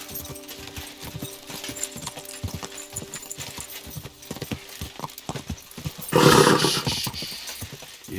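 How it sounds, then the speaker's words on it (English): In the video game Kingdom Come Deliverance 2, a horse's hooves clip-clop in a steady rhythm over ground, close by, with a louder burst of movement and possible whinnying near the end. "Easy, good horse"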